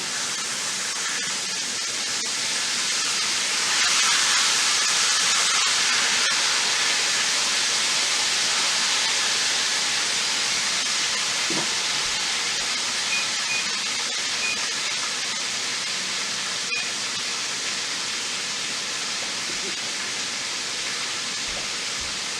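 Steam hisses continuously from an Instant Pot pressure cooker cooking field peas with snaps, a steady broad rushing sound that swells slightly and stays loud throughout.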